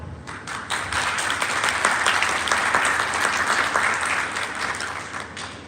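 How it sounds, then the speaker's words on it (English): A commencement ceremony audience applauds its teachers, mentors and staff. The crowd's clapping swells in quickly and holds as a dense, even roar for several seconds before it begins to thin out. "I'd like us all to give a round of applause to all of the amazing teachers,"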